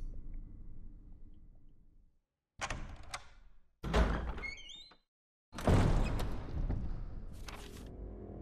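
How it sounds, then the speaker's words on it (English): A door opening in Resident Evil HD Remaster: low rumbling ambience cuts to silence, then a series of heavy thunks and creaking, sliding movement follows in separate bursts, loud and close, with no talking. "I think we got to go through this door first."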